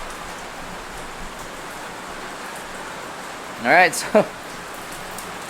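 Heavy rain falls outside a coffee shop as a steady, even hiss throughout, with a person speaking briefly over it near the end.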